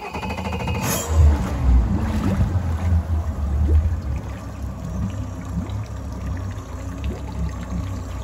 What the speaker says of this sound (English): Can you start the engine, please?